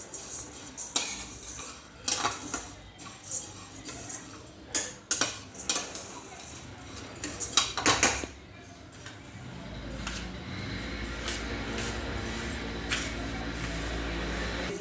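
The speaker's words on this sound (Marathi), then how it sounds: "आता आपण उडीद डाळ भाजून घेऊयात." Urad dal dry-roasts in a pan while a spatula stirs it in rapid, rattling scrapes and clinks. The stirring pauses, leaving a steady low hiss with only occasional faint scrapes.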